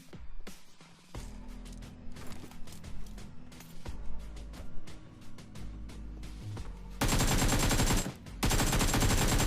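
Rapid bursts of video-game gunfire from a DP light machine gun in BGMI, loud and continuous with repeated shots and a dense stretch of firing near the end.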